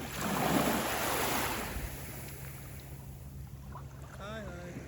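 Ocean surf washes onto the shore, a loud broad rush that slowly fades into steady background wash, with wind noise on the microphone and a faint voice near the end.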